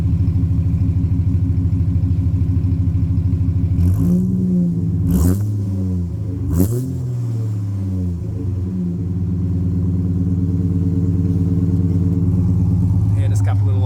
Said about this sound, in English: just a couple little light revs until it warms up properly